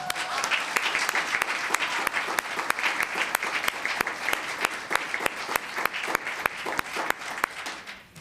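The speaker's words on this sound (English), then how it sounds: "A round of applause." Sustained applause from an audience at a Los Gatos town council meeting, steady dense clapping with sharper individual claps standing out, continuing for several seconds before tapering at the end.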